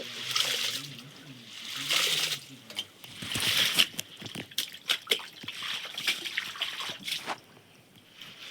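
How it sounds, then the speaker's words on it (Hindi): Water poured over freshly harvested wheat grain to wash it at home, bursts of splashing and trickling that come in uneven surges, with some indistinct voices and background noise mixed in. "अब इसमें पानी बहुत लगता है, बहुत डालना पड़ता है।"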